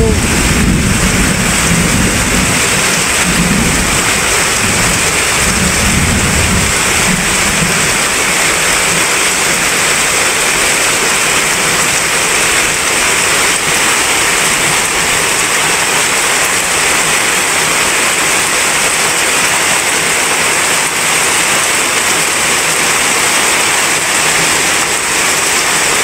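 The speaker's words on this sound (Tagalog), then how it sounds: "Yung lakas ng ulan, guys, ay konti pa yung tubig kasi kauumpisa pa lang ng ulan." Heavy rain falls in Bicol as a loud, steady roar that lasts throughout, with a deeper rumble of water in the first few seconds and no talk.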